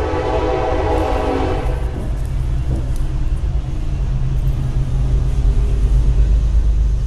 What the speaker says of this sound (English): 2 trains today.